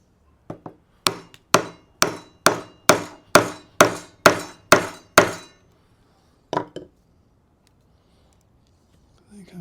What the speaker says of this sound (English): Put this chisel right on that knife wall.